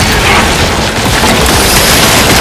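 A grenade strike explodes in the Warhammer 40K Space Marine 2 battle, a loud, sustained roar of blasts and rumbling debris that fills the whole moment, dense and close with no voices heard.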